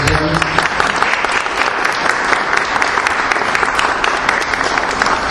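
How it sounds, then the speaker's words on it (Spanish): Loud, steady audience applause for a speaker at a university faculty event, a dense continuous clatter of many hands clapping at full strength for the whole five seconds, with no talk on top. "Nuevamente, un fuerte aplauso"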